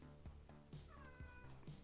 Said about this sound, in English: Cat came in, meowed and buggered off.